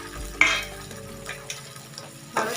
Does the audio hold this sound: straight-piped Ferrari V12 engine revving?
no